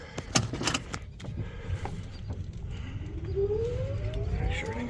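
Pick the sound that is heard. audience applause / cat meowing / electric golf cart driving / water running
electric golf cart driving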